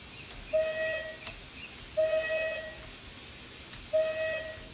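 Three long steam whistle blasts from a Merchant Navy Class locomotive in Train Simulator 2020, heard from outside, each lasting under a second and evenly spaced about two seconds apart, clear tones over low background rumble.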